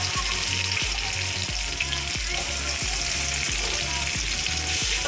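Onions frying in oil left over from frying small shrimp, a steady loud sizzle with a regular rhythmic thump of stirring, no voices.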